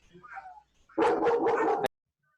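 A dog barks once in a harsh, slightly muffled burst lasting almost a second, following faint softer vocal sounds, then silence.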